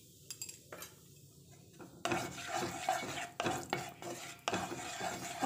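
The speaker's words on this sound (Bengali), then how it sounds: "কষাটা একটু কষে নিচ্ছি" Spice masala stirred and sautéed in a pan for dhaba-style palak paneer with turmeric and chillies: a quiet start, then continuous close sizzling with repeated scraping and metal utensil clinks against the pan.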